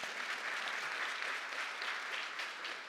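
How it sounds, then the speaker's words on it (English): Audience at a youth career program graduation claps together, a dense, even wash of applause heard from some distance, quiet but steady throughout with no speech. "Now, we can clap for that as well."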